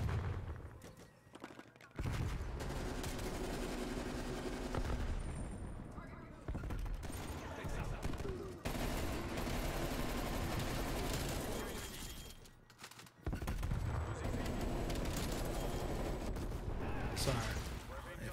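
Dense bursts of gunfire from a gun in Call of Duty Cold War, loud and continuous with brief gaps, under a busy game soundscape.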